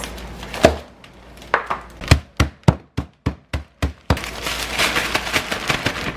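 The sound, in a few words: crushing ice for pho meatballs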